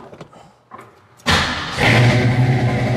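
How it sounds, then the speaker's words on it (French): A cold car engine cranks briefly then catches and roars to life, settling into a loud, steady idle up close after a few quiet clicks. "Allez, vas-y, démarre."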